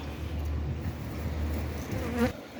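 A steady, close hum of honeybees buzzing continuously at a hive, a dense drone with one insect briefly swelling louder near the end.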